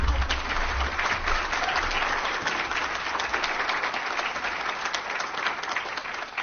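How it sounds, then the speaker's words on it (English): An audience claps steadily for Brian Williams, the 2021 Senior Australian of the Year, as he joins the stage at an awards event. The applause is dense, sustained and fairly loud throughout, with no speech over it. "You can give Brian a clap."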